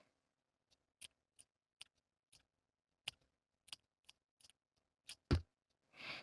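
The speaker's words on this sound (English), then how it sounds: "Use your scissors to make a series of clips all around the neckline to the stitching line but not beyond." Scissors snipping clips into the fabric seam allowance around the neckline of a sewn tank top, a series of about a dozen sharp, separate snips spaced irregularly, close and fairly quiet, with no talking.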